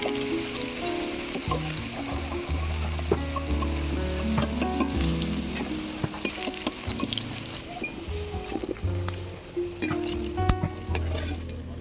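Oil sizzles and spatters steadily as elephant foot yam fries in a pan, with occasional scraping and clinks of a utensil stirring.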